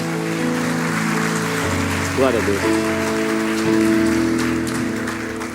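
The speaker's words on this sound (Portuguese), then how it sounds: "Dê o melhor aplauso que você pode dar ao Senhor." A congregation at an evening church service claps in a brief burst, heard under a sustained musical backdrop while someone speaks.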